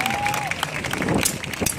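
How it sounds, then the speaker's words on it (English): Crowd applause for a chainsaw-juggling street performer, a busy mix of clapping and cheering voices from onlookers, fairly close and steady throughout. "Give her a round of applause."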